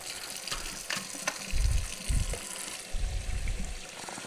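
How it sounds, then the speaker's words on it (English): Water runs from a tap into a sink filled with soapy water for washing e-liquid bottles, a steady, fairly soft gushing with a few heavier splashy surges. "fill the sink up with soapy water and then put them in there"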